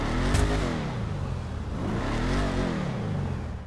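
A Beater Dukes car engine in GTA Online revs up and down twice, its pitch rising and falling in smooth sweeps, loud and close with no voices.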